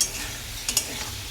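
Spice paste being sautéed and stirred in a pan for a fish curry, a steady close sizzle with a couple of sharp scraping stirs near the middle, with no talking.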